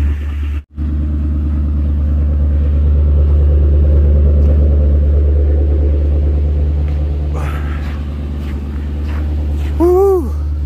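Cold-started Lincoln Town Car engine idling in the snow, a steady low rumble running throughout, with a brief dropout near the start and some faint activity near the end.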